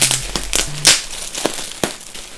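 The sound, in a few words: unwrapping a Nike hoodie from its packaging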